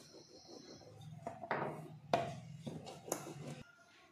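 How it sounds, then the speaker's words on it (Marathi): Spinach puri dough being rolled out on a board, close by: soft rubbing strokes and a few dull wooden knocks come in short bursts, with no talking. "तर आपण लाटून घेऊया, छान असा गोळा तयार करून।"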